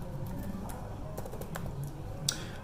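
Quiet, rapid keystrokes on a computer keyboard as a password is entered, a short run of light clicks with one slightly louder tap near the end, no talking.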